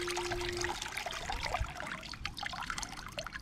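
Water trickling and dribbling out of Aleader water shoes that have been completely filled, a close, steady splashy drain that persists throughout with faint background noise.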